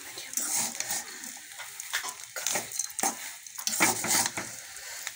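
Peanuts stirred in a wok while making chuda mixture, giving soft scraping and rattling strokes with faint sizzling, moderately quiet and uneven in rhythm, with no talk.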